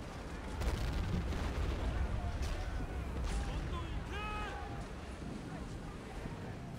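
Artillery shelling in the World War II game 3000 Miles to Tokyo rumbles as repeated low booms and blasts on a beach battlefield, with speech running over the gunfire.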